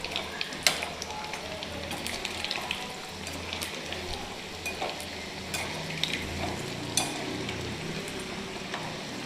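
Muthia dumplings deep-frying in hot oil over low to medium heat, a steady close crackling sizzle with occasional sharper pops and spoon clicks, no voices.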